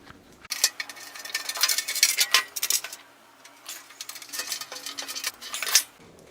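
Metal supports of a stove fire tray are shifted from storage to use, producing a run of close, bright metallic clinks and scrapes in two clusters with a short pause between.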